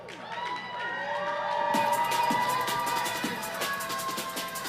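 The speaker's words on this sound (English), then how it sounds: "But let's give a big round of applause." A crowd at a live show cheers, whoops and claps for a contestant coming up, lively and moderately distant, building and holding for a few seconds.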